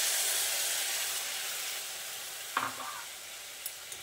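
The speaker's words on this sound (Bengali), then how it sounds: "জলটা দিয়ে ভালোভাবে বিটের সঙ্গে মিশিয়ে নিচ্ছি।" Beetroot stirred with a little added water in a cooking pan, a soft steady sizzle and hiss with a few scraping clinks of the spoon near the end, close and alone.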